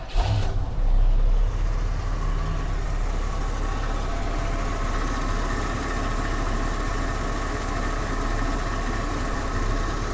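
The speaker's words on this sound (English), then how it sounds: "Let's start it up so you can hear the wonderful noises of a Buick V8." The V8 of a 1970 Buick Electra Limited fires up with a short loud start burst, then settles into a smooth, steady low idle rumble, close by, with no voices.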